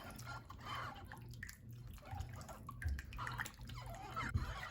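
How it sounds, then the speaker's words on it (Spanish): Vinegar and water poured over trimmed beef oxtail in a bowl, a soft continuous splashing trickle with small drips, fairly quiet against a low background hum. "Ahora le echo la media taza de vinagre con la taza de agua."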